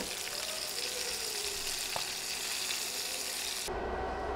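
Koi fish frying in hot oil give a steady, loud broadband sizzle that runs unbroken, with a brief clink partway through and a quieter, duller hiss near the end.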